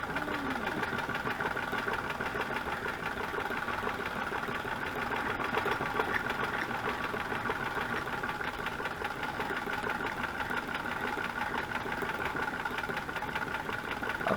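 A sewing machine runs steadily with a continuous mechanical whir and rapid stitching rhythm, close and unbroken throughout.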